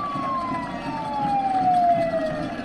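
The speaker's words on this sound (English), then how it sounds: "it's like they have a siren without an emergency vehicle" A siren wails with a slowly falling pitch over the rumble of traffic at a high school football game, moderately loud and steady.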